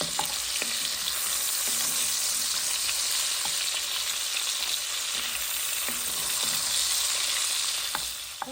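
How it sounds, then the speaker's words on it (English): Kielbasa sausage browns in a pan with a loud, dense, unbroken frying hiss, scattered light ticks and pops throughout, and no voices. "While that meat is browning"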